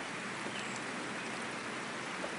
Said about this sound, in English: It is raining today, so Peppa and George cannot play outside.